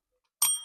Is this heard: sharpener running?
no